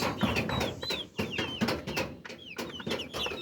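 A broody hen clucking and chirping in quick bursts at close range in a pet house, with scattered bird calls overlapping throughout.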